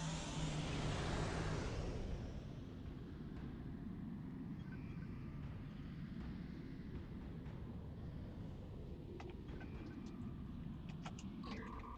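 A quantum slipstream drive engages in the space game Star Trek Online, starting as a loud broadband whoosh that fades after about two seconds into a steady low rumbling hum, with faint tonal chirps near the end.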